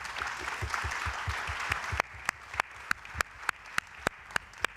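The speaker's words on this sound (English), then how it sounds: "Please, great applause for our speakers." Audience applause for the speakers at an international gastronomy tourism forum, a dense wash of clapping for about two seconds that thins to a few separate, sharp claps before fading out.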